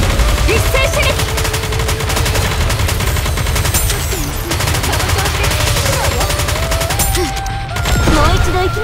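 A volley of cannon fire in the video game Nikke, sustained rapid heavy gunfire and blasts, loud and dense from start to finish, with a voice speaking briefly over it.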